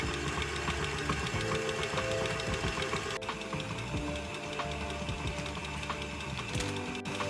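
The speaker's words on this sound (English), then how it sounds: "I mix on low speed for 2 to 3 minutes and another 2 minutes on higher speed" A stand mixer churns whole wheat sourdough dough, its motor and gears grinding in a loud, steady mechanical rattle that runs without pause, close and unbroken.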